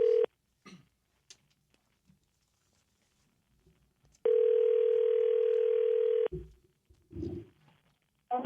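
Steady telephone dial tone while a call is placed, heard loud and alone for about two seconds between quiet stretches, with a short tone burst at the start and brief noises and voices afterward.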